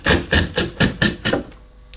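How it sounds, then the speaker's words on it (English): Chisel chopping out waste wood between saw cuts, struck in six sharp, evenly spaced blows that ring close and loud before the last one fades into quiet. "We can take this out across with a chisel."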